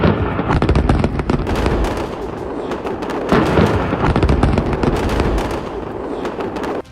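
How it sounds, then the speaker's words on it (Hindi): Rapid, continuous blasts and crackling bursts from airstrikes over Beirut roll on for several seconds, dense and loud, with no voices. "जिसमें पहले एक छोटा धमाका होता है और इसके बाद लगातार बेरूत में कई बड़े धमाके होते हैं"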